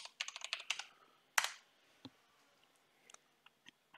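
Rapid keystrokes on a computer keyboard in a lighting-console timeline session, a quick burst of clustered clicks followed by one sharp louder key hit, then sparse isolated taps trailing off; close and fairly quiet, with no talking.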